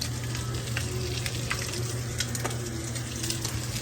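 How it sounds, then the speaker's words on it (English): Sausages fry in a pan with a steady, dense sizzle and scattered crackling pops, close and continuous throughout with no talking. "I got things cooking and things frying and things popping up at me."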